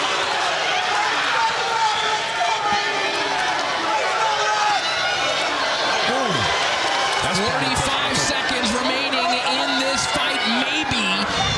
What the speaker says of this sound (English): The crowd is on their feet here in Atlanta.